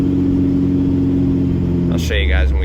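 A hotshot truck engine idles loudly up close with a steady low drone, a noisy idler pulley adding to the running sound before a brief burst of higher clatter near the end.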